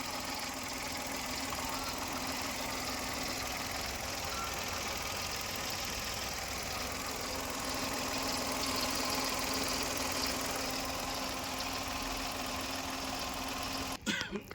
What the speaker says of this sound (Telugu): ఒకసారి మీకు ఇంజన్ సౌండ్ చూపిస్తానండి,